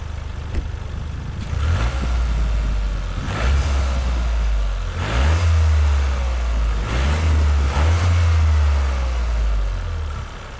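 A 2025 Toyota GR Corolla engine drones low and steady while it revs up several times in regular surges, with a faint turbo whistling whoosh riding on each rise.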